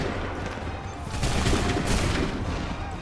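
A musket volley in Assassin's Creed III rolls out as a dense, booming crackle of many guns firing together, swelling in the middle and lingering over continuous battlefield noise.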